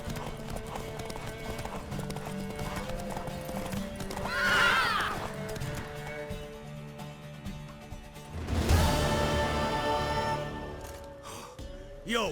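Galloping hooves and loud neighing come from a horse in The Witcher 3, with a sharp whinny midway and another burst later, set against game music and ambient sound.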